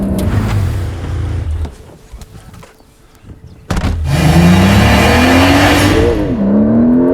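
A Porsche 911 Turbo S heard from inside: a loud engine note that drops away into near quiet, then a sharp burst of hard acceleration as the engine revs climb and shift through gears.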